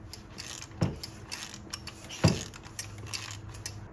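Ratchet fitted with a 9/16 socket loosening spark plugs on a Nissan Versa: a few sharp, close clicks spaced apart over a quiet mechanical background, with no talking.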